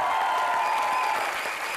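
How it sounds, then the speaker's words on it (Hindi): Loud, continuous applause from a studio audience on a comedy talk show, a dense wash of clapping that holds steady for the whole stretch. "एक बार जोरदार तालियां हो जाए।"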